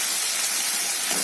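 Peas and eggplant dropped into hot spiced oil in a pan for a rohu fish curry, giving a steady bright sizzling hiss, close and even throughout, with no voices.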